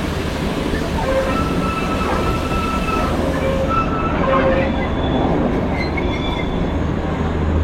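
Darjeeling toy train running along a track cut into a hillside, a continuous loud rumble with faint wheel squeals and clatter and no voices.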